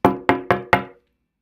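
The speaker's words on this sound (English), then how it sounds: "all of a sudden, I would hear these knocks at the door" Four firm knocks on a wooden door, evenly spaced and close, each with a short resonant ring that fades, heard alone with no voices.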